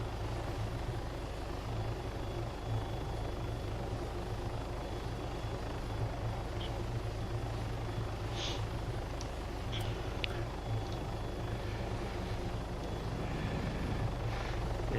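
A helicopter flies in a Vietnam War video game, its rotor and engine a steady, loud, low drone that runs unbroken throughout with no speech.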